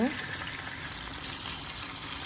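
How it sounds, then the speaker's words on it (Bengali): Mixed winter vegetables frying in a pan with a little turmeric powder, a soft, even sizzle heard close and fairly quiet throughout. "দিয়ে দিব সামান্য হলুদের গুঁড়া দিয়ে ভালো করে ভেজে নেব"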